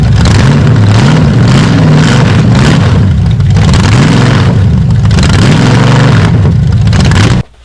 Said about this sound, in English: If I rev it up hard and then drop the throttle, it'll shoot.